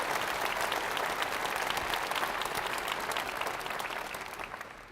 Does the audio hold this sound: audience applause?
yes